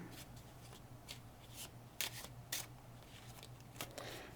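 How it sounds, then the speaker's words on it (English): Playing cards being shuffled quietly by hand, with soft riffling and a few sharper snaps of cards, irregular and close. "we're doing the same thing, injog, shuffle off, and then overcut that jogged card"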